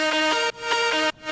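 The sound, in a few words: electronic melody of third drop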